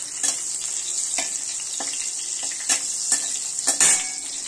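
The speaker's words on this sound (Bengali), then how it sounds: "এখন আমি কড়াইয়ে দিলাম সামান্য একটু তেল, আর এর মধ্যে দেব একটা তেজপাতা, দুটো শুকনো লঙ্কা দিয়ে ভালো করে এটা আমি গরম হতে দেবো" Bay leaf and dried chillies frying in a little hot oil in a wok: steady bright sizzling with soft scraping stir clicks at irregular intervals, close and alone.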